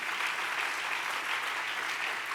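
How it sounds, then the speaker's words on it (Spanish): A church congregation claps steadily during a worship service, dense continuous applause from many hands filling the room at even loudness with no speech over it. "Dele un buen aplauso de alabanza al Rey."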